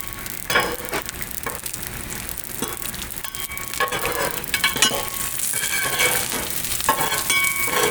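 Pepperoni slices being stirred and crisped on a Blackstone griddle: a steady close sizzle runs throughout, broken by repeated scraping and clicking spatula strokes, with no talking.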